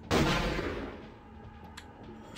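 A single shotgun blast from the video game Vampire the Masquerade: Bloodlines, a sharp loud report that decays over about a second, followed by faint clicks.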